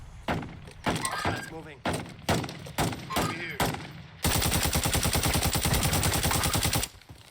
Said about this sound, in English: you hear gunshots above you like that guy heard us